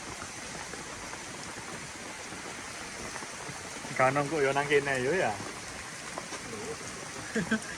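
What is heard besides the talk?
sudden heavy rain on a mountain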